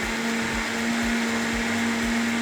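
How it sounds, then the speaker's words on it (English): A Vitamix blender whirs loudly and steadily as it blends a kid-made smoothie, a constant high motor whine with rhythmic churning thumps underneath. "This is really gonna test the Vitamix real good."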